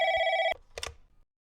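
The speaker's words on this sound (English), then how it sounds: "We pick up a lighter and the phone rings" A telephone rings in a horror video game, one loud electronic trill lasting about half a second and then cut off, followed by a brief muffled clatter.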